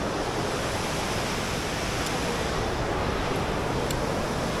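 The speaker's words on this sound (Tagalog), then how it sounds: "lakas ng tubig" Strong rushing water at Arashiyama in Kyoto roars as a loud, continuous broadband rush with no letup, steady from start to finish.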